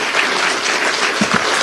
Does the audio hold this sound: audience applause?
yes